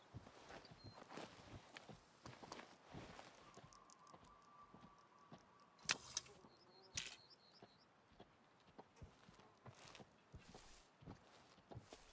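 Sparse, faint hoof clacks of a mouflon stepping through terrain in the hunting game Way of the Hunter, irregular and fairly distant over a soft buzz of insects, with a few sharper clicks and no talking.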